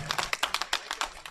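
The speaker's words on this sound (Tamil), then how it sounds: "அட நல்லா கைதட்டுங்க." A church congregation claps hands, a brisk run of many sharp, uneven claps close together, moderately loud with no talking over it.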